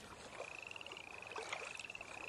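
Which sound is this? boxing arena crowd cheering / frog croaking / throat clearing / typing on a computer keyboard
frog croaking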